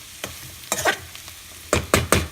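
A cauliflower and peas curry with chili powder and spices cooks in a pan, giving a soft sizzle broken by several scraping stirs of a spoon.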